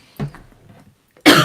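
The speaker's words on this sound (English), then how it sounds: "I'm about to cough." A faint throaty sound, a short pause, then one sharp, loud cough bursts out close by.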